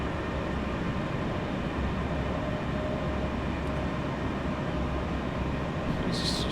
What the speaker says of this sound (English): Watch the train race past.